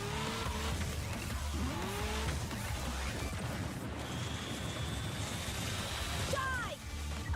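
A race car in the arcade racer Screamer boosts into a turn, its engine roaring steadily while the tires squeal and skid through the bend; a voice speaks briefly underneath.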